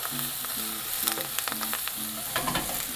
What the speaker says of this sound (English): So we're gonna toast these vegetables up